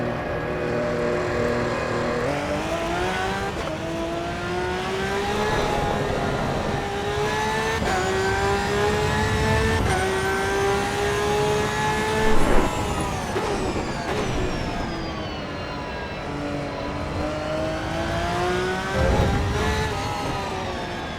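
A GT3 race car engine in the racing game Assetto Corsa EVO revs loudly and continuously, its pitch climbing and falling through repeated gear changes with no voices over it.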